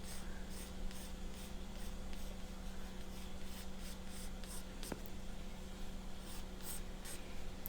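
A pencil draws lines on paper, making faint, repeated scratchy strokes in quick short bursts over a low, steady background hum.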